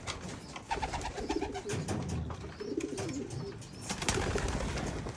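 Young racing pigeons coo in soft, overlapping low calls in a loft, with light rustling and a few faint chirps underneath.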